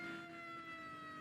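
A police car siren wails steadily at a moderate distance as it passes a moving car on the road. No one speaks.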